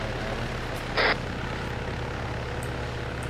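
A Little Bird helicopter idles close by, its rotor and engine making a steady, loud low drone with a brief hissing burst partway through and no voices.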